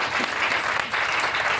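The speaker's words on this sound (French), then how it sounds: "Acclame très puissamment Jésus" A church congregation applauds and cheers for Jesus during a Wednesday evening preaching service, a steady, close wash of many hands clapping together throughout.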